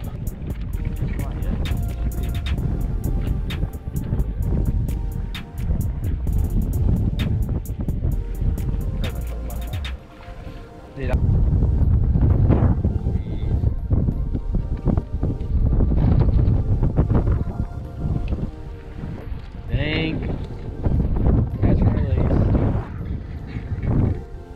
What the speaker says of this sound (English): It's so windy, so sorry if you can't hear me.